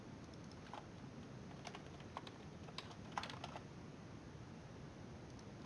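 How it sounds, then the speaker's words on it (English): Someone types on a computer keyboard while coding in C++ for an Unreal Engine 4 project, sparse clicks coming in small irregular bursts, close but quiet, over a faint steady fan hum and with no talking. "I don't like typing."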